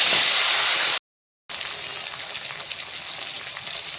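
Bay leaf, dried chilli, cloves, cardamom, cinnamon and cumin seeds sizzle loudly in hot oil for a Rui fish recipe, a dense crackling hiss that drops out briefly, then continues.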